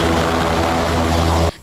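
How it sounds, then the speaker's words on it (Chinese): German Chancellor Scholz's helicopter comes in to land at an airport, its engine and rotor droning loudly and steadily before cutting off abruptly near the end. "德国总理肖兹的直升机降落机场"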